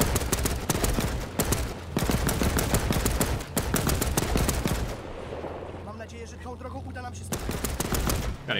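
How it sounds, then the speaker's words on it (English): A vehicle-mounted machine gun in the Land of War game, set in the 1939 German invasion of Poland, fires long, dense bursts that break off briefly, then resumes. Loud and close, a voice speaks during the pause. "we're driving behind their lines, wasting them with a damn machine gun on the back of a vehicle"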